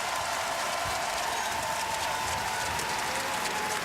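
Basketball arena crowd applauding during a college game, a dense, even wash of clapping and crowd noise heard from a distance and held steady throughout.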